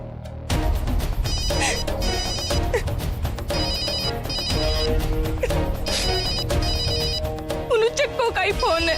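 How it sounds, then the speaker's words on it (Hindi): A telephone rings in a Hindi TV serial household scene, repeated electronic ring bursts in a steady pattern over a loud dramatic music bed, with a crash near the start. "चक्को का ही फोन है।"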